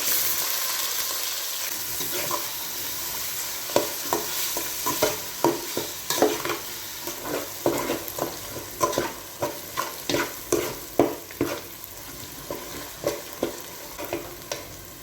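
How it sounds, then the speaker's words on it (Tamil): Onion and garlic sauté in a pan for karuvattu kuzhambu, a dried-fish curry, sizzling softly under repeated rhythmic scraping strokes of a spoon that grow steadier after a quiet start, with no talking. "வெங்காயம் பூண்டெல்லாம் நல்லா வதங்கிடுச்சு"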